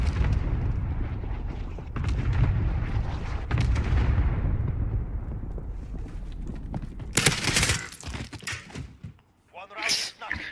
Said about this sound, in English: Cluster strike away.